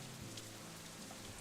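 Rain falling as ambient background in the visual novel game Katawa Shoujo, a soft, even hiss of steady rainfall with faint scattered drops, quiet and constant throughout.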